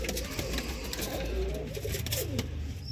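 Pigeons coo softly and steadily in a loft, low murmuring calls layered over a constant background hum, close by and fairly quiet, with no talking.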